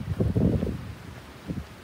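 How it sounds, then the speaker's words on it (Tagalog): Gusts of wind sweep through tall cogon grass on a hillside in Batanes, a rustling, buffeting roar that swells early, fades, then returns briefly near the end, with no voices. "Ayan, yung hangin na."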